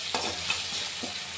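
Sliced onions sizzle in hot oil with a little salt and turmeric, a steady frying hiss broken by a few soft scrapes as they are stirred in the pan.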